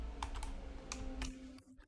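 Computer keyboard typing of Python code for a YOLOv8 live detection loop, a few soft, close key taps in quick clusters over a quiet room hum, with no talking.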